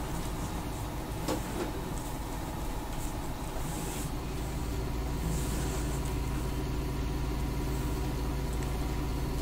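Tractor engine in Farming Simulator 19 running at a steady idle, a constant low drone throughout with a brief clunk early on and no talking over it.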